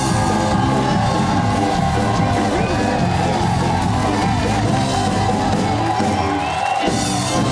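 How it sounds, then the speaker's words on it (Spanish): A large TV studio audience cheers, whoops and yells loudly and continuously, a dense roar of crowd noise that never lets up. "Aplausos."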